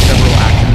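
A Concorde crash explosion in a Flight Simulator video game makes a brief, very loud, distorted boom that fills the whole moment with dense low rumble.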